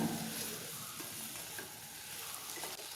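Potatoes and beans frying in a pan give off a continuous, even sizzle with soft stirring underneath, faint and steady throughout.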